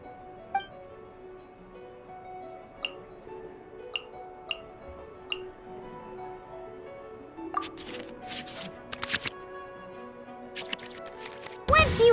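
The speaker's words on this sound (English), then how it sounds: "we can select any number of cards in our hand to shuffle back into the draw pile" Cards in the Genius Invokation digital card game get shuffled back into the draw pile. Sparse soft ticks and clicks lead into several short rustling, swishing bursts of shuffle effects, ending on a brief louder flourish.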